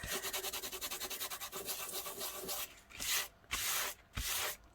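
Dried table salt is rubbed off watercolour paper by hand, first as a fast, even run of close scratchy strokes, then as slower, separate bursts of rough rubbing with short pauses between them.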